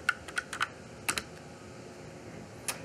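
Typing on an ordinary USB computer keyboard plugged into a DIY RP6502 computer build, a few sharp, close key clicks in two quick bursts followed by one more tap after a pause, no talking.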